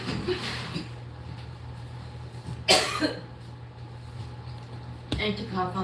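A single harsh cough bursts out near the mic, followed later by another short cough and a voice, over a steady low hum.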